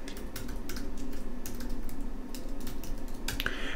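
Code is typed on a computer keyboard in quick, uneven bursts of close, crisp key clicks, with a louder clack near the end and no voice.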